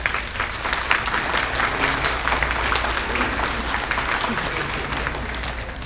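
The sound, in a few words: students clapping from side to side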